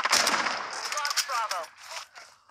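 Rapid bursts of automatic gunfire in Modern Warfare 3, sharp cracks clustered close together with a voice briefly talking over the shots.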